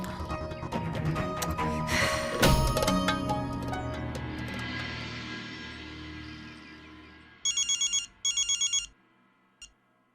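A telephone rings in two short bursts of electronic trills near the end, following a loud, busy stretch of dramatic crashing sounds and music in a Turkish TV drama scene.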